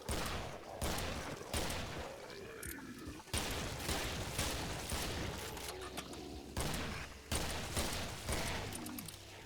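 Repeated bursts of gunfire from the video game Killing Floor, with shots firing close together in rapid volleys and brief pauses between them across the whole stretch.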